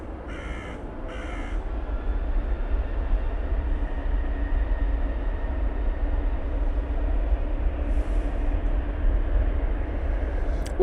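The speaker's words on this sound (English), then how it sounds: "Cathay Pacific A380 900 now coming in from Hong Kong." A Cathay Pacific Airbus A380 arriving from Hong Kong at Manchester Airport produces a steady, deep, heavy roar throughout, while crows caw in short pairs at the start and again near the end.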